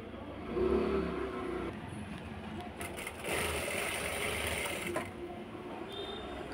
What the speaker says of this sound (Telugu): మళ్ళీ స్టిచ్చింగ్ చేయాలి.